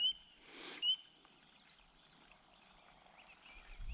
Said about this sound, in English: the peepers are distinctly more high-pitched